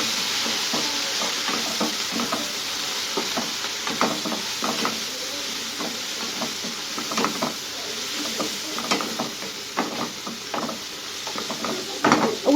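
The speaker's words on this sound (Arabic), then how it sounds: "هنقلب بقى المكونات دي كده مع بعض كده" Garlic cloves and bell pepper frying in a pan, stirred with repeated scraping strokes over a steady sizzle, close and moderately loud, with no talking.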